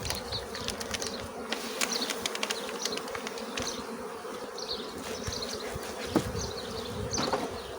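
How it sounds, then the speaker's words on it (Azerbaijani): Honeybees at an opened beehive buzz in a dense, steady swarm close by, with individual bees whining past, and no voices. "Deməli, arı kekini artıq yeyiblər."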